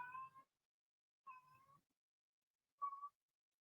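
A house cat meows three times, each call short and fairly clear, separated by pauses of silence, with the last meow slightly higher and brighter.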